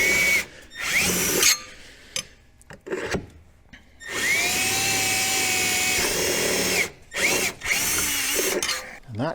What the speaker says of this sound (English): Our reasoning for drilling those holes through the belly pan